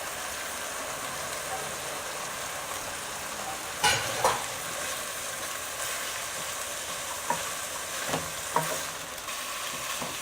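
Hard carrots stir-frying in a pan give a steady, moderate sizzle with a few sharp clicks of utensil stirring scattered through, heard alone.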